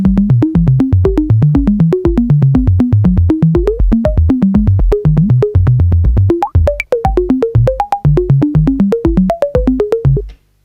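Fast Korg EMX-1 drum machine percussion hits in a steady sixteenth-note stream, each hit's pitch modulated, jumping up and down in a wobbling, melodic pattern, loud and continuous.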